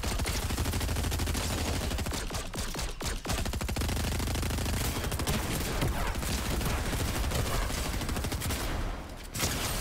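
Video game gunfire rattles almost nonstop in dense rapid bursts, loud and continuous across the whole stretch with brief dips, no clear talk.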